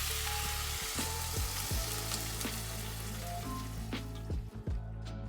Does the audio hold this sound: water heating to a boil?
yes